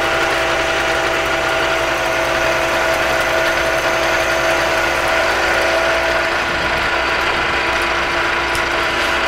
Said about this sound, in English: face cutter, not too fast, high revolution